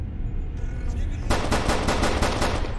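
Rapid bursts of gunfire from a Skibidi Toilet horror video game, with dense repeated shots that start partway through and run loud and steady to the end.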